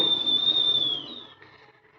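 An idli cooker on a stove lets out its pressure whistle, a steady high shrill tone lasting about a second before it wavers and fades into a faint hiss.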